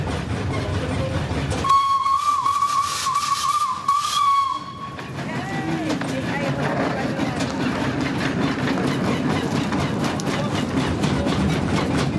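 The Telford steam tram locomotive blows a loud, steady steam whistle for about three seconds over a hissing rush of steam, then settles into a softer ongoing hiss and low rumble.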